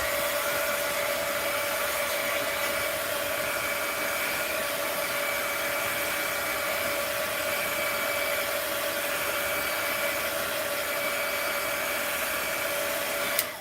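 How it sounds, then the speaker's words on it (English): Heat gun drying a mixed media art journal page, a steady loud whirring blower hum with a constant high whine, running close and unchanging for the full length before cutting off at the end. "Let's dry that a little. Heat gun alert."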